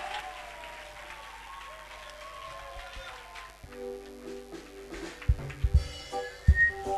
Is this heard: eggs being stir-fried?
no